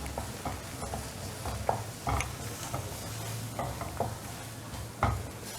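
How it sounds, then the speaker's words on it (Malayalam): Coriander, turmeric, garam masala and cumin powders being stirred in a pan while preparing palak chicken, heard as soft scraping strokes with occasional light clinks and a faint sizzle underneath. "മല്ലിപ്പൊടി, മഞ്ഞൾപ്പൊടി, ഗരം മസാലപ്പൊടി, ജീരകപ്പൊടി നമുക്കിനി മിക്സ് ചെയ്യാം."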